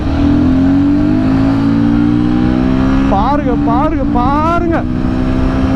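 A Royal Enfield Guerrilla 450 motorcycle accelerates hard in third gear on a highway near top speed. The loud, close engine drone climbs steadily in pitch as someone speaks briefly over it.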